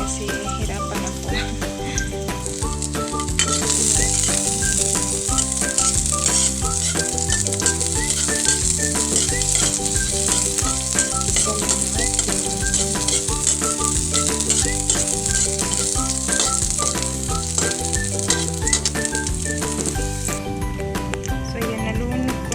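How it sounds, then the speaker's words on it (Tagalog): Vegetables being sautéed in a little cooking oil in a home kitchen, a steady bright sizzle with stirring that carries throughout, under continuous background music or tones. "So igigisa lang natin siya guys. Yan, konting mantika."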